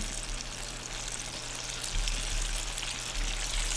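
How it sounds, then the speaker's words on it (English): Apple pieces go into a very hot buttered pan while making a Dutch baby, giving a steady, close sizzle and hiss that continues evenly with no talking. "We know the pan's hot because these are sizzling when they go in."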